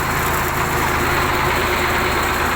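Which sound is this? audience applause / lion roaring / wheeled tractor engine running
wheeled tractor engine running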